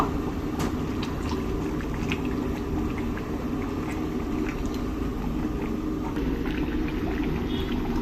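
Mutton gravy simmers thickly in a pot and is being stirred, giving a dense bubbling and a wet churning that carry on steadily with a few small scraping clicks.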